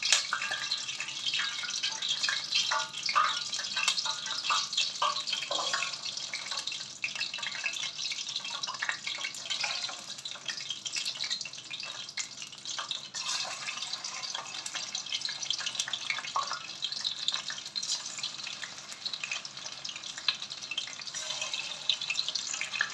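Chicken pieces fry in hot oil with a continuous bright sizzle and crackle. Small pops and spatters come through at a moderate level throughout.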